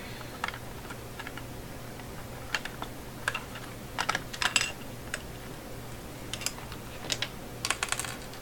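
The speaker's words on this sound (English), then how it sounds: "I've got a little screwdriver here" A small screwdriver works at the battery compartment of an electronic organizer, giving scattered light clicks, scrapes and taps close by, irregular and faint against quiet background hum.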